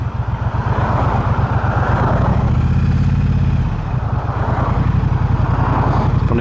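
A 2022 Triumph Bobber motorcycle engine thrums steadily while riding, a loud, close, pulsing low rumble with a dip as the throttle eases before pulling again, wind noise mixed in and no voices.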